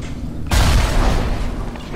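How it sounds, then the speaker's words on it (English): Grenade blowing up in a video game: a sudden heavy boom hits after half a second of quiet, then a broad rumbling roar lingers and slowly fades, loud and close. "Just throwing grenades at my face."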